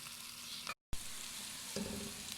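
Arbi and eggplant frying in ghee give a steady close sizzle, broken by a brief dropout, then resuming with a faint stir against the pan.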